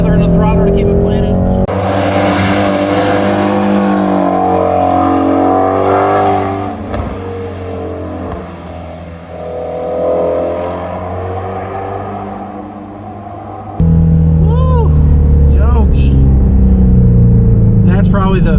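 A Ford Mustang Shelby GT350 engine drones and revs steadily while driving uphill, loud and close throughout, with the throttle eased and re-applied; the pitch shifts near the end as the engine note rises again.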